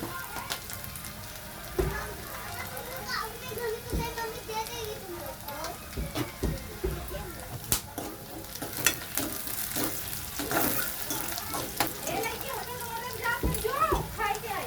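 Onion sautéing in a pan for a black urad dal dish sizzles softly while a spatula stirs with scattered clicks and scrapes. Someone talks over it throughout and children's voices are faint in the background.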